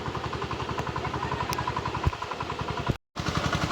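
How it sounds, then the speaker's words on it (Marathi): A tractor engine runs close by during rice transplanting in wet paddy fields, with a steady, rapid thumping chug, continuous except for a brief dropout near the end. "बघू शकता तुम्ही ट्रॅक्टर आता चालू आहे."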